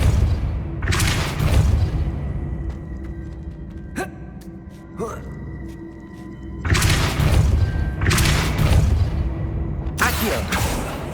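In the Hogwarts Legacy video game, the Depulso spell fires in forceful bursts, with heavy thumping blasts and crashing impacts repeating several times over game ambience.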